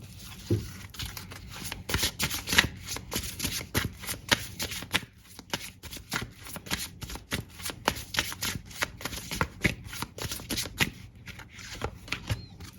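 Tarot cards are shuffled by hand continuously at close range, a rapid crisp riffling and flapping that repeats in quick bursts throughout.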